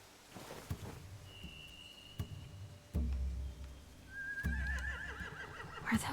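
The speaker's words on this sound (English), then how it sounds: "They have horses." Horses neigh in The Walking Dead video game, two distinct whinnies rising and trembling over low rumbling game ambience, with a few thuds and faint hoof sounds in between.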